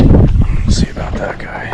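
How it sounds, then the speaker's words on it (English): Heavy, rumbling wind buffets the microphone on a fishing boat while out for smallmouth bass in New York in September, loud and blustery, easing slightly after the first moment. "Man, this wind is just brutal."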